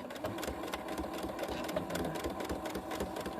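A sewing machine stitches a fabric bag, running steadily and loudly with a continuous rapid mechanical whirr and needle chatter, with no voices.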